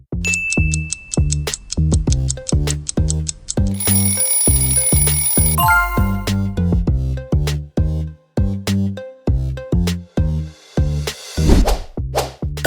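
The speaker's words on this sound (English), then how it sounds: "Ding dong. Which doorbell announces your arrival in style?" A doorbell chime rings out in bright, bell-like tones over a bouncy, rhythmic musical backing, loud and up front with no voices.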